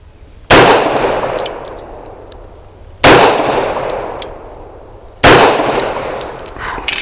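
Three loud, evenly spaced pistol shots from a Bersa B1911 fired at a target, each a sharp crack followed by a long ringing decay.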